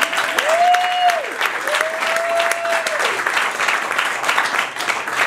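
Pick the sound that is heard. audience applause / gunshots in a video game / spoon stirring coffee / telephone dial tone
audience applause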